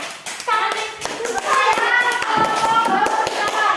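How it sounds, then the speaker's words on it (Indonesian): An audience claps for a group at a gathering, a spread of scattered hand taps growing into fuller applause, with children's voices mixed in. "Kasih tepuk tangan dulu untuk kelompok teratur"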